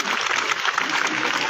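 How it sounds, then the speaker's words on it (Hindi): An audience applauds the father of Manish Kumar at a Delhi Police gathering, with dense, steady clapping from many hands filling the brief moment. "जोरदार तालियां इनके लिए"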